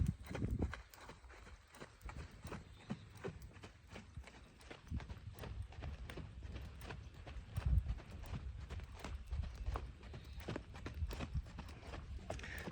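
Rhythmic clip-clop of a ridden horse's hooves cantering in an arena, steady three-beat footfalls close by throughout, with no talking.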